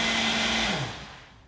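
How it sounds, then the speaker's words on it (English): A blender whirs loudly while mixing a peanut butter smoothie, a steady high motor whine that then spins down as the machine is switched off, heard close with no talking. "It's blending. I'm letting y'all know."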